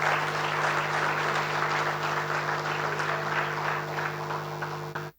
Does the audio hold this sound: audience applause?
yes